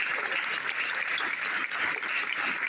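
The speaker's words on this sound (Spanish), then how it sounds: "vamos a dar un fuerte aplauso a Carlos Pérez" An audience at a live radio show recording in Belchite applauds, producing a dense, even wash of clapping that holds steady throughout without voices on top.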